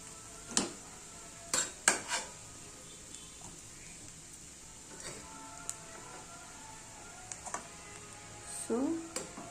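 Spatula scrapes and clinks in a pan as cooked vegetables are mixed into rice for fried rice, with a few distinct knocks between quiet stretches under a steady background hiss.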